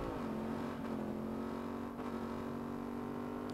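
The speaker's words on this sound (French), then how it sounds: "Reprends la moto." A motorcycle engine in Saints Row drones at a steady pitch with small revving shifts, holding a constant tone throughout at a moderate, even level and with no talk.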